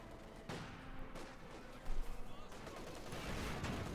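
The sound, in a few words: machine gun fire in Company of Heroes 2 video game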